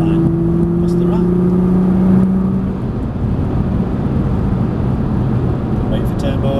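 Nissan GT-R engine pulling hard on a track day at Prestwold Hall, a steady loud drone with rising engine tones, heard from inside the car under an instructor's coaching.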